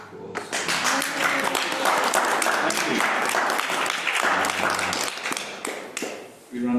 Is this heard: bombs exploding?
no